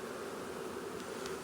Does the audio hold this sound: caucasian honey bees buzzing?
yes